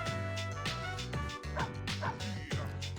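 Dog barking and whimpering in the Persona 3 FES video game, short yips and whines repeating over game music at steady loudness.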